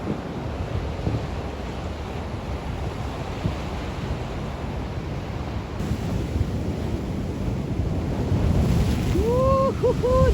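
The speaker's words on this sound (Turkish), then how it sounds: "deniz kalkmış geliyor." Winter sea waves wash and surge against the shore at Taflan, Samsun, in a steady rush, with gusty wind buffeting the microphone; a brief voice appears near the end.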